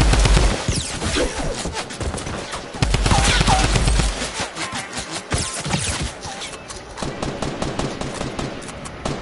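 Rapid bursts of automatic gunfire from the video game Fortnite crackle loudly and continuously, with dense overlapping shots and a few short pauses between volleys.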